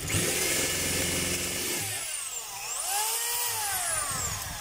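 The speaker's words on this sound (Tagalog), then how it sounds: "Tapos yung drill mga kabay, yun yung tahimik lang na walang gaanong ingay." A DeWalt D25033 rotary hammer runs in drill mode, a steady close whir that sags and rises in pitch as the trigger eases and squeezes again, with no hammering blows.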